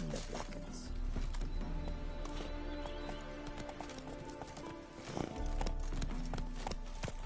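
Hooves clip-clop steadily from a galloping horse in The Witcher 3, loud and continuous throughout, with a brief neigh and some rushing ambient game sound layered underneath.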